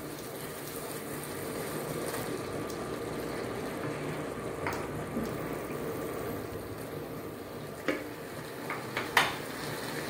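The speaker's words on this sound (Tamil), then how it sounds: "தக்காளி நல்லா வதங்கிடுச்சு, கொடமுளகாய ஒன்று ஒன்றா சேர்த்துக்கலாம்." Capsicum sautéing in a pan with softened tomato for a mixed vegetable paneer gravy, a low continuous sizzle under occasional metal spoon clinks and scrapes against the pan, fairly quiet and close.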